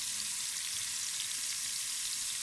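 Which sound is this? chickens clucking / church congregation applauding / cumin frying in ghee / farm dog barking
cumin frying in ghee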